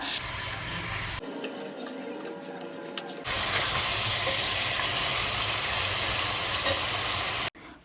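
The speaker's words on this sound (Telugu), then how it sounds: "ఇలా చికెన్ మ్యారినేట్ చేసి పెట్టుకుంటాం కదా అదైతే ఆయిల్లోకి వేసేసి ఫ్రై చేసుకోవాలి" Marinated chicken pieces frying in hot oil, a loud, steady sizzle that drops out briefly and then resumes at full strength, with faint scraping and stirring noises running through it.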